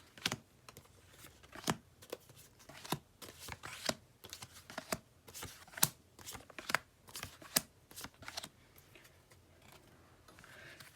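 Tarot cards are shuffled and dealt onto a surface in a quick run of crisp, close flicks and taps, each card landing with a short snap in irregular rhythm.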